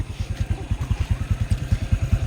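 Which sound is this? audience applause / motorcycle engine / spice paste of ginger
motorcycle engine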